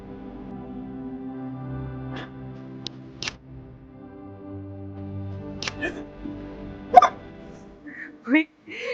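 A few sharp, brief hiccups after a kiss, scattered amid a quiet room tone with a low hum, close and isolated, the last ones louder near the end.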